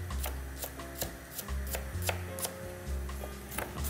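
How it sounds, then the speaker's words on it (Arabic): Onion is chopped on a board for a cannelloni filling, a series of close, sharp knife strikes in an uneven rhythm over a low kitchen hum, with no talk. "شنو نسحقوا اخر شيء؟ مش برشا بصل، شويه بصل مخصص جويد"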